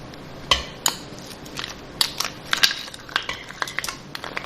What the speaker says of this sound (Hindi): अब मैं इसमें बर्फ़ डालूंगी।